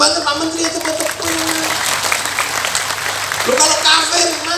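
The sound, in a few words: audience applause at a religious lecture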